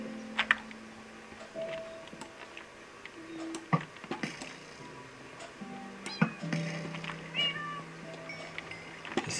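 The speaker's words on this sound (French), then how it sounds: "C'est bien pour ça que je prends des chats." Cats in Minecraft meow repeatedly in short, scattered mews at moderate distance, mixed with light clicks and game ambience and several sharp taps, with no talk over them.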